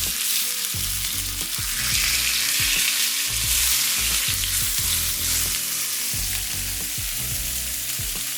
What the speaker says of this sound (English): We have it on medium to high heat, and now we're going to add the fish.